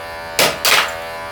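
Two short bursts of a Philips i9000 electric shaver's harsh buzz during a head shave, one brief and one a little longer, close by with a quiet pause between them.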